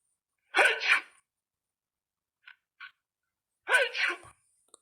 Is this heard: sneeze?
yes